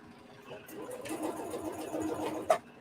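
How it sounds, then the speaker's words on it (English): A sewing machine zigzag-stitches over elastic on a men's shirt being remade into an off-the-shoulder top, a soft, quiet mechanical whirr for about two seconds ending in a sharp click. "I'm going to zigzag right on top of my elastic because I'm coming back to the beginning of my shirt"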